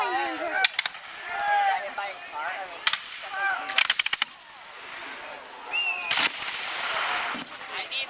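Cannons firing at a War of 1812 reenactment, several sharp booming reports scattered through the clip over a background of crowd chatter and outdoor noise.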